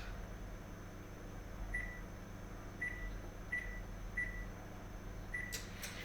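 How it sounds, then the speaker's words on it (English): Oven being set to preheat to 350, a series of five short electronic beeps spaced about a second apart over a low steady hum, faint and close, ending with a brief click. "Now I'm going to take my oven, I'm going to turn it on 350."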